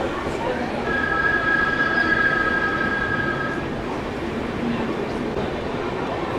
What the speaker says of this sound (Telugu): మెయిన్ లైన్ డిపార్చర్, అందుకనే ఈ మాత్రం ఎక్సలరేషన్ అయితే తీసుకున్నాడు.